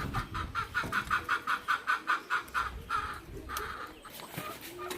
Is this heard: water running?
no